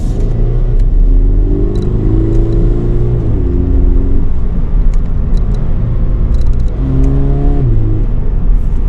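A 2020 Toyota 86 Hakone Edition engine in sport mode hums and revs steadily while driving, a continuous loud rumble with rising and falling pitch as it shifts through gears.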